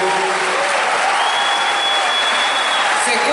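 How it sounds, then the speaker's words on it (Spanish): Dense, steady applause from a large audience at the 30th Fiesta Nacional de la Guitarra, a folk guitar festival in Dolores, Argentina, filling the whole stretch loudly and evenly with a faint tone ringing above the crowd. "Y este aplauso de todos ustedes para pedirle..."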